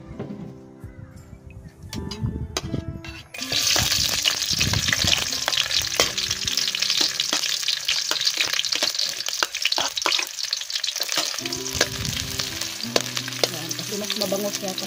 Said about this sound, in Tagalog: magigisa ako ng sibuyas, bawang, luya at tanglad